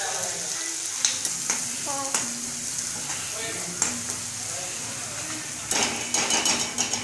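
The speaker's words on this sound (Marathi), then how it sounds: "चला आपण डाळीला फोडणी देऊन घेऊया। लसूण खोबऱ्याची पेस्ट टाकून घेते।" Garlic and coconut paste fries in hot oil for a dal tempering, giving a continuous sizzle broken by scattered clinks and scrapes of a spoon stirring against the pan.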